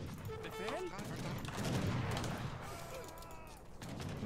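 Lever cannons fire in a video game battle, a dense rumbling fusillade of booms and crashes rolling under faint game sounds, with scattered blasts throughout.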